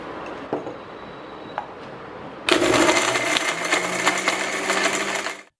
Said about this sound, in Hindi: आपको मिक्सी में 50 ग्राम बादाम, 1/4 चम्मच काली मिर्च पाउडर और 3 चम्मच चीनी डालकर पीसकर पाउडर बना लेना है